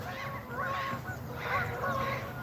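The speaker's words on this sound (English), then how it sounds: "here come the geese." Canada geese honk repeatedly in bursts, loud and fairly close, over a steady outdoor rumble on a morning walk.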